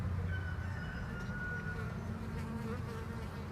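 Honey bees swarming around an opened beehive during an inspection, a steady close buzzing hum filling the air with individual bees droning past.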